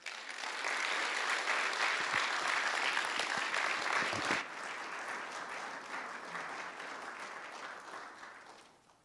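Audience applause welcoming a lecturer to Regent College, a full hall clapping steadily and loudly for several seconds. It eases slightly partway through, then fades out at the end.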